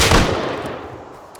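A single loud gunshot from the survival video game Rust, with a sharp onset and a booming low-end tail that fades over about a second.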